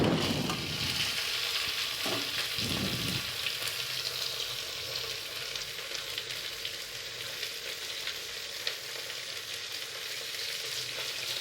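Five sliced onions sizzle and fry in a pan for beef biryani, a steady close hiss with a few stirring scrapes near the start, continuous and even throughout without speech.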